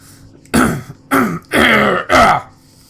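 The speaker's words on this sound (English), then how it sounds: "by coughing violently" Four harsh, forceful coughs in a row in the video game The Talos Principle, close and loud, each a short rough burst separated by brief pauses, with no speech.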